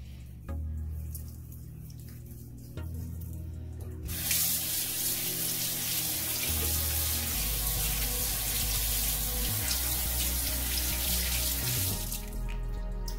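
Water gushes steadily from a tap for several seconds, then shuts off, over a low background hum.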